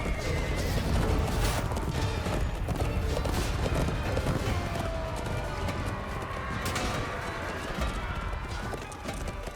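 Horses whinny and neigh over a dense rumble of galloping hooves and clattering battle noise in a cavalry charge in the video game The Bloody Crown of Conan, loud and continuous throughout.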